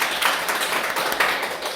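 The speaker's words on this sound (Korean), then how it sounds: "박수 부탁드리겠습니다." Audience applause at a parent education session for a disabled children's play teacher support program, a steady patter of many hands clapping for almost two seconds, moderately loud and even, with no pauses.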